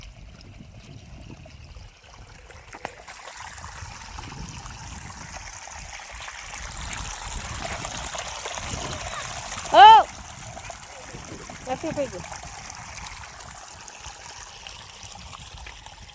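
Irrigation water trickles and splashes steadily into a field at close range while people talk nearby, with a short sharp whistle-like squeak partway through.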